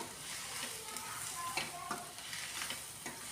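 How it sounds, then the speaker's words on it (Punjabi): Onions and green chillies frying in a pan for a milk and onion bhurji, with a faint, steady sizzle and soft stirring scrapes and taps scattered through. "ਹੁਣ ਆਪਾਂ ਬਚੇ ਹੋਏ ਪਿਆਜ਼ ਵੀ ਸਾਰੇ ਪਾਤੇ ਆ ਇਹਨੂੰ ਜੇ ਆਪਾਂ ਹਿਲਾਉਂਦੇ ਰਾਵਾਂਗੇ"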